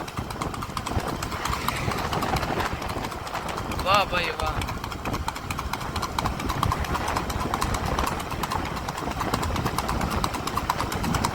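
A racing horse is walked out after about a month of rest, its hooves clip-clopping steadily and close under a continuous bed of outdoor noise, while someone speaks excitedly throughout.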